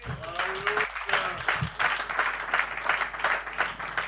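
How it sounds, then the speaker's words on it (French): A congregation applauds during an Easter Sunday evening church service, steady clapping rising and falling for about four seconds with voices mixed in. "Applaudissez pour le prophète."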